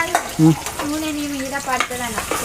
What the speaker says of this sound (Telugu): సో కొద్దిగా అయితే ఉల్లిగడ్డలు వేసుకుంటున్నా